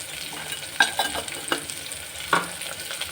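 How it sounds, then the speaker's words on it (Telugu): A spoon stirs salt, turmeric and chili powder into a drumstick and tomato curry, with irregular scrapes and taps against the pan over a soft, continuous sizzle. "చూడండి ఇలా బాగా కలపాలి"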